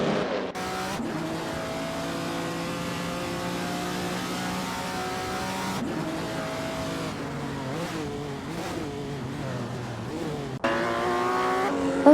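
Race cars in an AI racing video game roar past, engines revving and climbing in pitch through gear changes, with brief dips between shifts and a steady, loud mechanical whine.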